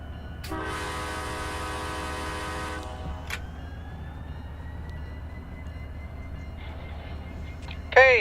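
A K5LA horn taken from a CSX F40 locomotive blows in Run 8, a loud, chord-like blast of about two and a half seconds, then a brief toot, with quiet rail ambience afterward.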